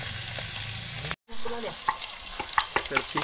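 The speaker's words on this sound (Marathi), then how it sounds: "फिश फ्राय आपलं चालू आहे आणि आता आपण तेल टाकतोय" Surmai (kingfish) pieces fry in oil with a steady sizzle and crackle, broken by a brief cut of silence, then stirring clinks over the continuing spatter.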